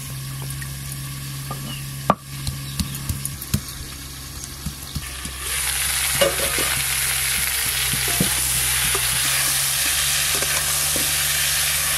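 Potatoes and cauliflower sizzling and frying in a pan with occasional clinks of stirring, the hiss growing louder and steadier partway through.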